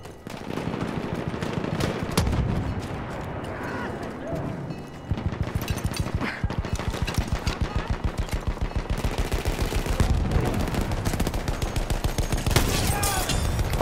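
Steady rapid-fire gunshots from weapons in the first-person shooter Battlefield 1, a dense chain of close cracks running nearly nonstop with brief gaps, and someone talks now and then beneath the shooting.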